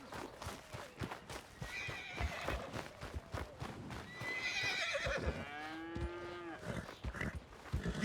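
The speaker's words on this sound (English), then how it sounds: "Need a hand with that horse?" A horse whinnies in a long, wavering call near the middle of the clip, surrounded by dense clip-clop of hooves and stable commotion, with other livestock calls blending into the busy, moderately loud scene.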